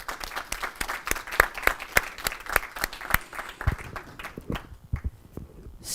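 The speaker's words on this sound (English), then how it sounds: "I think we should give a round of applause to the second panel" A small audience at a European defence cooperation panel event applauds the second panel with sparse, distinct claps that thin out and trail off toward the end.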